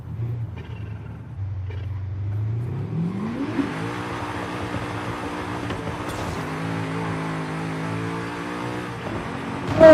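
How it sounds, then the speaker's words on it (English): A car engine in Forza Horizon 5 idles low, then climbs into a loud sustained rev with a drop in pitch as it downshifts, holding a steady, droning roar close by with no talking. "Nice downshifts."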